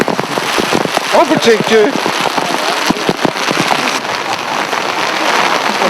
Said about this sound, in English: it started to pour with rain